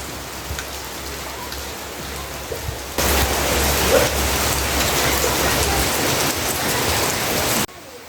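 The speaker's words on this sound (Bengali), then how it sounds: "আমি দুপুরবেলা বৃষ্টি নামছে" A sudden afternoon downpour: steady rain noise that jumps abruptly louder partway through, a dense hiss of drops on surfaces that runs on, then cuts off sharply near the end.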